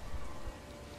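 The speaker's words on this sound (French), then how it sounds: "Et en plus il pleut, fait chier." Steady rain falls as ambience in a role-play game session, a dense, even hiss without clear individual drops, and no voices.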